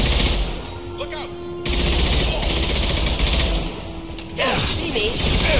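Video game gunfire in a prison shootout level, bursts of rapid shots and booms that fill the mix loudly in two long stretches, with game voices and effects mixed in.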